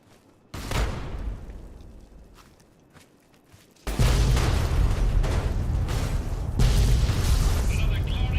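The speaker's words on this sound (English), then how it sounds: "Cool guys don't look at explosions" Explosion in Fallout 3 gameplay: a sudden heavy boom lands near the start and fades, then a second, louder blast erupts and rumbles on continuously with debris and crackling, with some talk underneath.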